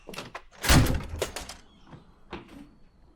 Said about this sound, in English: Let the door close.